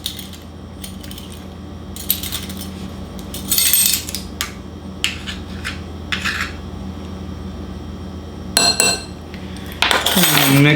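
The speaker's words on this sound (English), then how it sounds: "Mix all your dry ingredients together and then just set it aside." Flour, salt and baking powder being mixed in a bowl, with scattered clinks and scraping rattles of a utensil against the bowl in short bursts, close and otherwise quiet.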